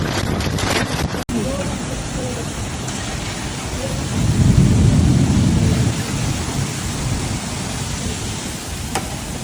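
Heavy rainstorm in Jeddah, with a steady loud wash of rain and a deep rumble of thunder swelling in the middle; voices can be heard faintly at the start.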